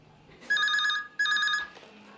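Telephone ringing at a Childline child helpline centre: two clear electronic ring bursts, each about half a second, separated by a short pause, loud and alone.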